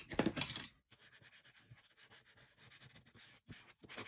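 A folded paper booklet cover is rubbed down by hand, giving soft, dry scraping strokes: one firmer burst at the start, then quieter repeated rubs, close and faint, with no talking.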